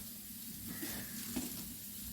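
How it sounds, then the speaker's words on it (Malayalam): Plantain pieces sauté in ghee in a pan, giving a faint, steady soft sizzle with light stirring and no voices. "ഏത്തയ്ക്ക നെയ്ക്കകത്തൊന്ന് പിടിക്കണം. അതുവരെ നമുക്കൊന്ന് വഴറ്റി കൊടുക്കണം."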